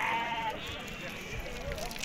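Sheep bleat at a Moroccan outdoor livestock market selling Eid lambs, with a short high call early on amid dense crowd murmur and background chatter.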